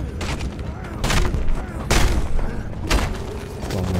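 Several loud gunshots ring out in bursts, roughly one per second, over a busy background of Mad Max game noise and some talking.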